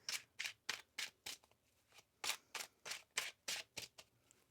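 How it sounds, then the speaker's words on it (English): Tarot cards are shuffled by hand, a quiet close series of about a dozen crisp riffling bursts in a steady rhythm with brief pauses between. "One more shuffle here."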